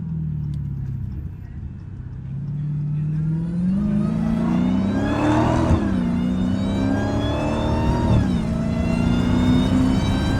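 A Dodge Hellcat engine revs while driving through snow, rising and falling in a loud, close, throaty sweep over about ten seconds with shifts between climbs and faint background talk.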